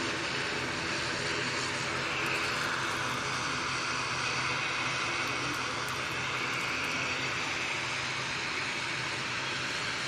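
A Cathay Pacific Airbus A350 airliner moves at Manchester Airport, giving a steady, broad engine roar that holds at an even loudness for the whole stretch with no talk over it.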